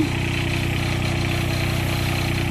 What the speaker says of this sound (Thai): วันนี้พามาดูการเก็บเกี่ยวข้าว ที่ใช้เครื่องตัด